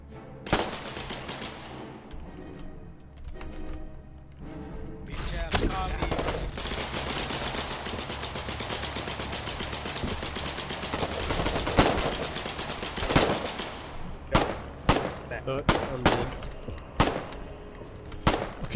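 Gunfire in the video game Colonial Marines comes in loud bursts: sustained automatic fire through the middle, then sharp separate shots near the end, with brief voices under it.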